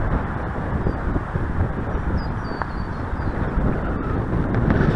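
Steady, loud wind rushing and buffeting across an outdoor microphone during the flight of a 2-metre F5 RES radio-controlled glider, continuous and roaring with no gaps.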